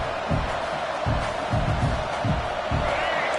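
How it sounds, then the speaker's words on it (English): A packed football stadium crowd roars to spur on the home defense, a dense wall of cheering with rhythmic low thumps of stomping running underneath. "Listen to this crowd just shaking the girders of this place, trying to help their defense."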